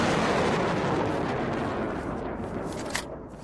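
Rocket explosions in the video game Unturned, a continuous rumbling roar of blasts that stays loud throughout and tapers slightly toward the end, with no voices over it.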